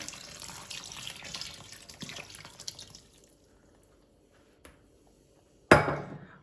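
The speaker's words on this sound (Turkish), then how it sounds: "Oda ısısında su koyuyorum. Üzerine geçene kadar." Room-temperature water runs steadily from a tap over apricots with baking soda in a bowl for about three seconds, then stops; a sharp knock or clunk comes near the end.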